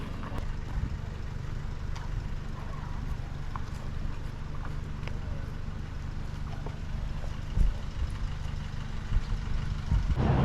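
A steady low engine rumble with wind and water noise from a ferry boat in Pennsylvania, like riding aboard or beside it, continuous throughout with no talking.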